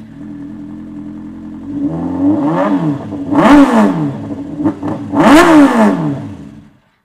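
A 2007 Kawasaki ZX10R Ninja 1000 sport bike idles, then its engine is blipped sharply several times, each rev rising to a loud howl and dropping back, heard close with no talk.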